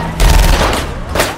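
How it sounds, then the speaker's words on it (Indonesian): Rapid bursts of gunfire in a film shootout during a car chase, loud, close booming shots in two clusters over a brief moment. "saat terjadi baku tembak dalam kejar-kejaran itu"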